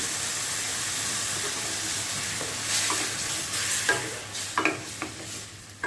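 Kasundi potato curry (aloo dum) sizzles and simmers in a pan over low-medium flame while a spoon stirs it, with scraping clinks growing more frequent near the end over a steady frying hiss.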